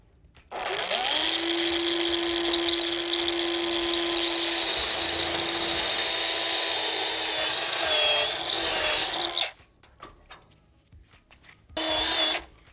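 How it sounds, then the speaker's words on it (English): A power drill whines loudly and steadily for several seconds while it bores holes into a 2011-2014 Ford F250/F350 grille, stops, then gives one more short burst after a pause. "we're going to take our bit and drill them"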